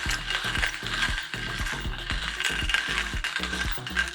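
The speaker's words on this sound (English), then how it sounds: "Now we are going to grind some coffee." Coffee beans being ground for a moka pot: a rapid, steady run of ratcheting clicks and crunches close by, with no talk.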